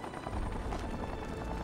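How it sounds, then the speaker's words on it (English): Helicopter in the Batman Arkham video game, a steady low rotor thrum and broadband roar held at even loudness throughout, fairly close, with no talk over it. "Almost hit that helicopter, my bad."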